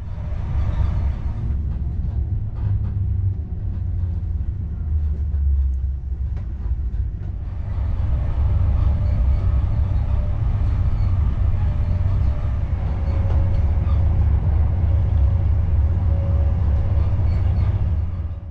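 High Speed Train with Mark 3 coaches cruising at top speed on the line out of Bristol, a steady loud low rumble of wheels and track noise with faint rattles, continuous throughout with no talk.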